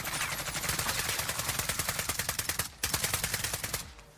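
Automatic gunfire in the shooter game Call of Duty Warzone: a loud, steady stream of rapid shots at a fast even rhythm, broken by one brief pause before the firing resumes and then cuts off.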